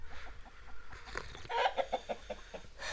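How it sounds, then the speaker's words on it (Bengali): A big hen clucks in short, close bursts at a hill homestay, a quick run of harmonic clucks rising in the middle over faint outdoor background. "এ দেখো কত বড় মোরগ সরি মুরগি না"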